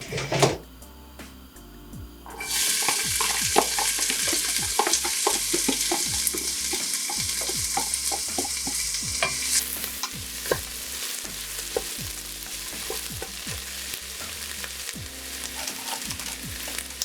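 Food fries in hot oil in a pan for lasagna sauce: a quiet start with a clatter, then a loud, steady sizzle that jumps in at about two seconds, with repeated scraping stirs and utensil knocks throughout.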